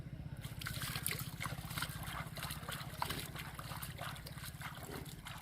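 Water trickles and splashes as feet are washed at an outdoor spot on a mulberry farm, a continuous soft wash over a low steady hum.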